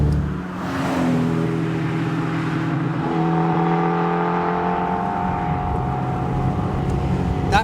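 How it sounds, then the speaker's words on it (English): A 1968 Honda S800 accelerates, its small high-revving engine giving a buzzy mix of intake and exhaust that climbs in pitch through the gears, loud and close with no talking. "That mixture of intake and exhaust sound is just so intoxicating."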